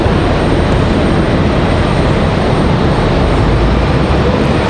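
An American Airlines CRJ regional jet at Raleigh Durham airport produces a loud, continuous broadband engine roar, unbroken and with no talk over it.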